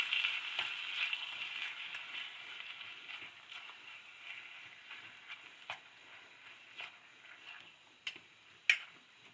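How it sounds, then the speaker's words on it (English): Beaver meat pan-fries over a rocket stove with a steady, fairly faint sizzle and a few sharp pops and crackles toward the end. "Pan fry my beaver"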